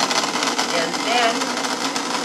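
Electric mixer churning pie crust dough of flour and salt, a steady whirring hum that stays even and fairly close the whole time.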